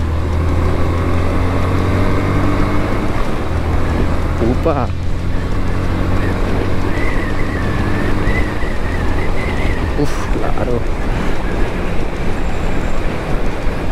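Yamaha FZ 150 2.0 motorcycle with Blue Core engine pushed hard on an avenue, steady loud engine and wind roar with a rising rev sweep midway, while the rider exclaims briefly over it.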